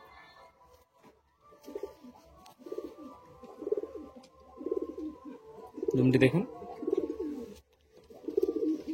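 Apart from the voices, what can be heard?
pet pigeons cooing in a loft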